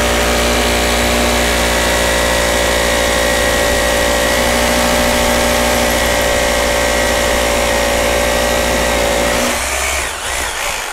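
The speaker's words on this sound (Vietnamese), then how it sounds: "con này thì khoan bê tông này thì quá đơn giản luôn" An Osaka three-function rotary hammer drill bores into concrete with a loud, steady motor whine rich in droning harmonics. It runs continuously for most of the stretch, then cuts off near the end. No voices are present.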